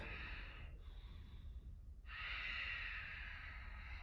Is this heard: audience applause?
no